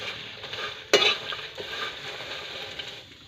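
Marang seeds cook in a pan, giving a steady close sizzle with a sharp metallic scrape of a utensil against the pan near the start.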